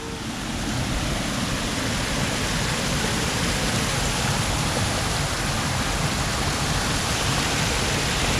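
A small waterfall in a Miami Beach park makes a steady, dense rush of splashing water, loud and continuous throughout with no voices.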